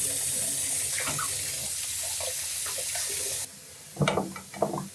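Tap water runs steadily into a sink as strawberries are rinsed, a broad continuous wash that drops slightly in level near the end, followed by a few brief splashes and clatters.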